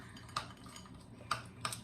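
A utensil stirs melted microwaved chocolate chips in a bowl, giving three faint isolated clinks against the bowl spread over a couple of seconds above a low background hiss.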